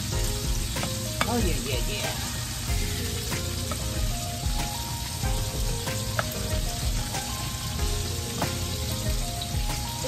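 Garlic potatoes fry in melted butter in a pan, a steady close sizzle broken by the scrape and clatter of stirring throughout, with brief casual talk over it.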